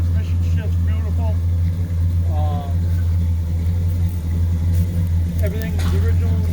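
A Dodge Coronet R/T with a 440 V8 idles steadily with a deep, even low rumble throughout, while people talk nearby over the engine.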